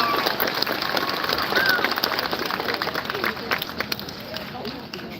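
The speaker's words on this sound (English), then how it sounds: "Let's give these actors a big round of applause" An audience at a live outdoor event gives volunteer actors a steady round of applause, a dense wash of clapping that carries on throughout with crowd noise and voices mixed in.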